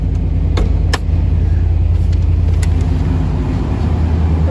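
A 1990 Chevrolet K1500 Silverado with a 5.7-liter overhead-valve V8 idles steadily and loudly up close, a deep continuous rumble with a couple of brief clicks early on and no talking.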